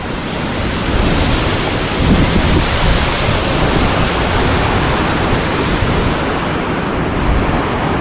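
The Marmala stream in a Kottayam forest, reached via Erattupetta and Teekoy, rushes over rocks on a dry day, a dense, constant, loud roar of flowing water heard close and alone.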